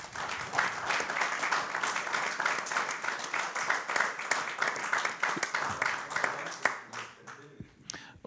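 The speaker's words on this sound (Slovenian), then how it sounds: "Jaz verjamem, da se naši tri gosti zaslužijo en tak res močen aplavz." An audience at a round-table discussion in Murska Sobota claps for the guests, a lively, close burst of many hands that holds strongly for several seconds, then thins out near the end.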